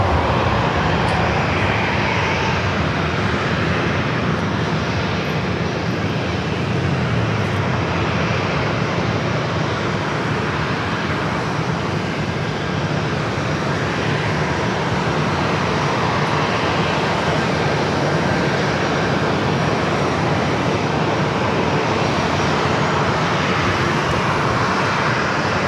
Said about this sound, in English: Arrival is a Southwest flight coming in from Vegas.